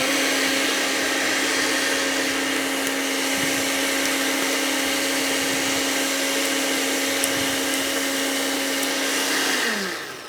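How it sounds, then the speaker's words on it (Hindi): An electric grinder whirs steadily for about ten seconds as it blends a marinade spice mix for chops, a loud continuous motor whine that winds down at the end as it is switched off. "मिक्स को मैं और पीस दूँगा।"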